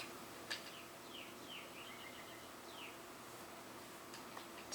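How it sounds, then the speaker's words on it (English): Birds singing outdoors, faint and distant: a few short chirps and whistled phrases scattered over a soft background hiss, with occasional light clicks. "There's always these birds singing."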